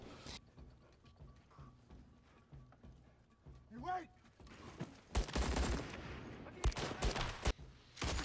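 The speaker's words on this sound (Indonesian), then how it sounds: "Baku tembak satu lawan banyak pun berlangsung dengan penuh ketegangan." Bursts of gunfire break out in a film shootout where one fighter takes on many armed terrorists on a remote island. Sharp volleys crack in the second half, with a voice narrating over the action.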